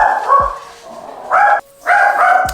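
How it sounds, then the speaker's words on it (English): A dog barks close by in a few loud, throaty bursts, with short pauses between them. "He barking like somebody on the porch."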